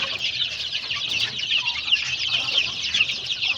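Chickens cluck and chatter on a poultry farm, a dense continuous chorus of hens close by with occasional louder squawks.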